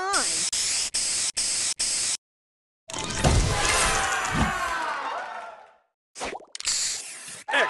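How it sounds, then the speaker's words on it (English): Spray booster effect from the Match Masters puzzle game: a burst of five quick popping taps, a pause, then a long loud hissing spray that fades out, followed by more short plops and chimes. "Booster ready. Spray on."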